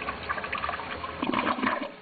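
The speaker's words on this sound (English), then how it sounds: "Flush away the crown!" A dirty toilet flushes with a steady rush of swirling water that surges louder toward the end, heard close up with no voices.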